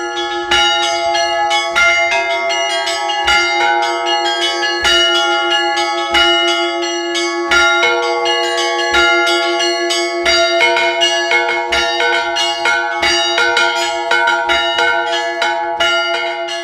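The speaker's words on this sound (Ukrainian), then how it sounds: "щоразу дзвонар по-різному може дзвонити в один той самий дзвін" Church bells ring steadily and loudly throughout, struck again and again by a bell ringer with a rich, sustained metallic tone and overlapping peals, with no voices.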